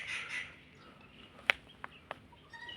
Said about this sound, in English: So just hear the voice of this bird. This is very strange. Oh my god. I think it's a woodpecker.